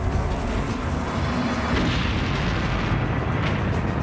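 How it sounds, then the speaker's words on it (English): A deep, sustained explosion blasting open a besieged fortress at Kazan, a continuous loud rumbling roar with low booming weight that fills the whole stretch without pause. "The force of the explosion stops the battle in its tracks."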